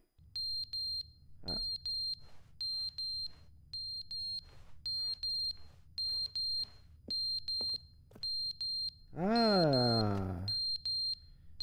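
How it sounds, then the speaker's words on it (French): A fire alarm in The Stanley Parable beeps in a fast regular pattern of shrill high tones, repeating in bursts throughout, with a man briefly exclaiming once and a longer voiced sound partway through. "Une alarme incendie qui sonne."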